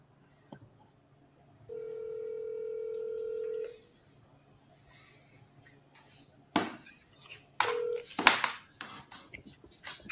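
A phone is dialed for a call about a vacant house in Georgia, giving one long tone followed by a shorter one. The quiet beeps are close, and soft handling noises follow them.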